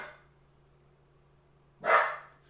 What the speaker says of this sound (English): What kind of dog, though? Is he a Chihuahua? I think he's a Chihuahua.